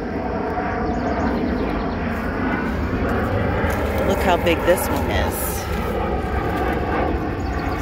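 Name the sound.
airplane flying overhead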